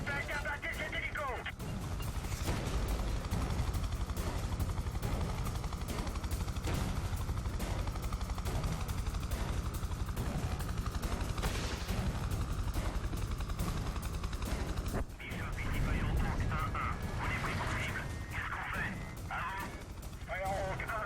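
Rapid bursts of gunfire at a helicopter in the video game Prototype 2 crackle continuously over a rotor drone and explosions, dense combat noise with speech-like voices intermittently mixed in.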